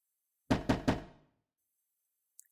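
Three quick, solid knocks land on a door in close succession, loud and near, followed by silence, as an audio drama sound effect.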